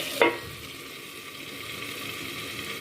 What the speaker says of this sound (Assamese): আকৌ ঢাকনা দি পেলাই ভাজি ল'ম।